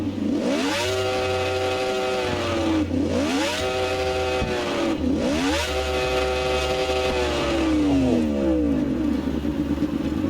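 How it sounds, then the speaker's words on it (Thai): A Yamaha R1M superbike's crossplane engine revs in the racing game Ride 4, rising loud through several gears in repeated climbing sweeps with shifts between them, up close and continuous, with no talking. "มันไม่ใช่เสียงสี่สูบนะ มันเป็นเสียงคลอสเพลนะเพื่อน"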